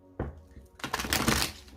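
Tarot cards are shuffled by hand in a few quick, close riffling bursts that rise to a busy flutter and stop within about two seconds.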